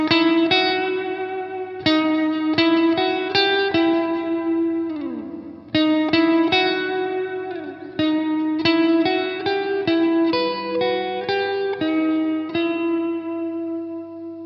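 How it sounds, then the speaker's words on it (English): Clean electric guitar notes and chords ring out through the Mooer R7 pedal's church reverb, spacious and long-decaying, each strum lingering and blending into a wide wash of sound. "This is the church reverb"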